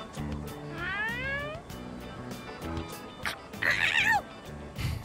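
Cat meows in the Persona 3 Reload video game: a pair of rising, wavering mews near the start and another sharper, louder meow past the middle, over a steady low game music bed.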